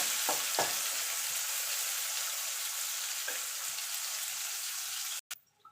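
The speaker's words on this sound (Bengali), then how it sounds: "তো পেঁয়াজটা একটু ভাজা ভাজা করে নেব।" Chopped onion fries in hot oil in a pan, a steady, dense hiss with a few soft knocks of a spatula, cut off abruptly near the end.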